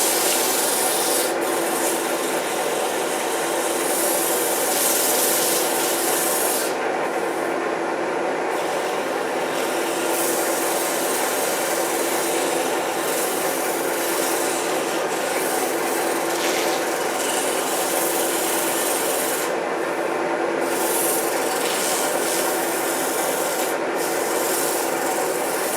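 Sandpaper of 120 grit rubs against a turned wood mushroom birdhouse spinning on a lathe, giving a continuous close, even scratching hiss with slight surges and no talk.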